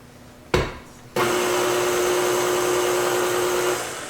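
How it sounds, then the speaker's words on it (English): A stand mixer with a paddle attachment mixes apple raisin bread batter. A sharp click sounds, then the motor whirs up into a steady, loud, close hum that holds and eases off slightly at the end. "turn your mixer back on"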